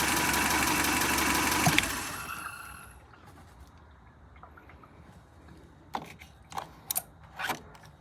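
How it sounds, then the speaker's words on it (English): A car engine runs loud and steady, then cuts out abruptly when its fuel pump or spark relay is pulled, leaving quiet punctuated by a few clicks and knocks. "we pulled that relay and the engine shut down"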